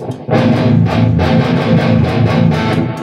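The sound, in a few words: tube amp distortion on guitar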